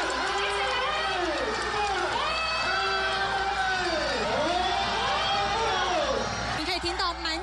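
A large crowd at the Germany Pavilion of the World Expo shouts together to wake the pavilion's giant 20-tonne, 3-metre kinetic ball, a sustained, swelling roar of voices that rises and falls in waves over a continuous background.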